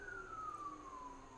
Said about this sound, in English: that was a really interesting siren